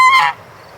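A single loud, close goose honk from a free-range poultry flock, with a bright harmonic call lasting about a third of a second before fading into quiet background.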